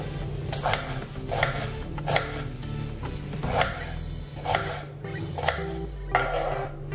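A knife finely chops tomatoes on a cutting board, with a steady run of crisp, close chops about every half second and soft scraping between them.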